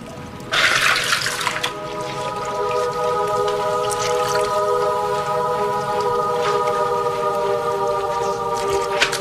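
Water runs steadily from a tap to fill a bath, a close, constant gushing splash that starts abruptly and continues unbroken to the end.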